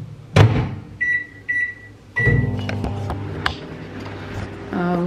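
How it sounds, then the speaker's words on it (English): A microwave oven beeps several times, its door bangs shut, and it starts humming steadily, with a brief clatter and another beep near the end. "I have to microwave them"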